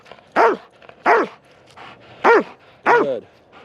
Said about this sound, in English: Ever seen a Doberman up close barking?